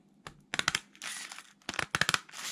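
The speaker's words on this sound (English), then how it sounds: "take a pair of scissors, and just cut" Scissors snip through the tape of a resistor pack, bending over thin component leads in short crisp bursts, close and quiet, with a pause between groups of cuts.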